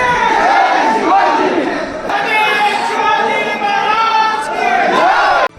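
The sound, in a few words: crowd chanting slogans at Sindkhed Raja palace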